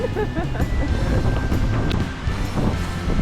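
Strong wind blows on Boracay, heavy rumbling gusts buffeting the microphone in a steady loud roar with faint background noise.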